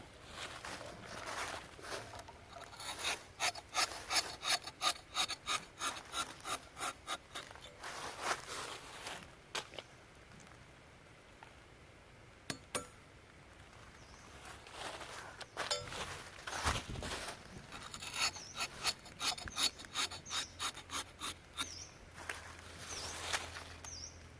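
A rubber tapping knife with a forged blade cuts tree bark in rapid rhythmic scraping strokes, rasping in quick bursts, pausing and starting again, close and crisp against a quiet outdoor background.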